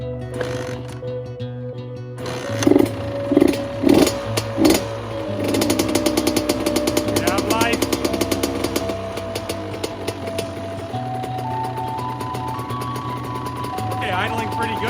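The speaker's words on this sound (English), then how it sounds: "Idling pretty good just right off that." A 2002 Honda CR80 two-stroke dirt bike engine starting up and settling into a steady, buzzing idle with a few sharp revs early on, close and loud, under background talk.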